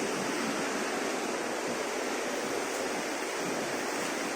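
Steady broadband rush of a river flowing below a zoo in Banjarnegara, heard from above as a continuous, even wash of water with no breaks and no voices.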